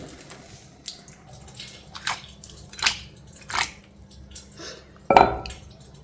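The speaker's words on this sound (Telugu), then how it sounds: "పచ్చడి అయిపోయిన వెంటనే రోడు రోకలి శుభ్రంగా కడిగేసి పెట్టుకోవాలి" A stone mortar and pestle, just used to grind a cucumber and coconut chutney, is washed with water: a string of splashes and rinsing swishes, ending in one louder knock of stone, close by with no talk.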